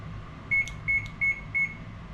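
A kitchen oven being set to cook beef and mushroom gives five short, evenly spaced electronic beeps, clear and close over a faint room hum.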